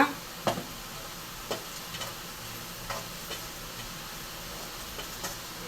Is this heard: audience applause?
no